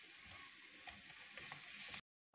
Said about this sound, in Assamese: মই ইয়াতে অলপ তেল ব্যৱহাৰ কৰিছো মাছটো ভাজিবলৈ